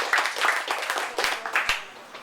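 Crowd applause in a church during a Sunday service, with scattered claps and a few louder individual hand claps, steady and moderately close, with a murmur of voices mixed in.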